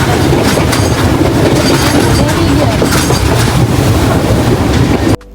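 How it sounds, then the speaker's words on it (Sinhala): A train rolls on its rails with a loud, steady rumble and rhythmic clickety-clack heard from inside the carriage. The sound continues without pause and cuts off abruptly at the end. "ට්‍රේන් එකත් යන්න පටන් ගත්තා"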